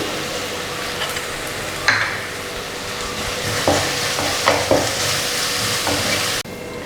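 Onion and crushed chilli stirred and frying in a pan for chicken thoran, a steady close sizzle broken by several scraping stir strokes, with no talking.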